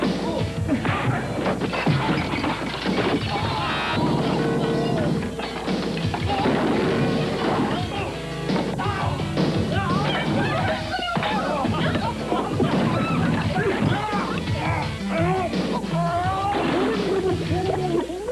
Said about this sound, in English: that's something new in a teenage comedy, an adult food fight